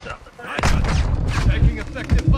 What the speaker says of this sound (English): I'm getting shot, so be careful, watch your head.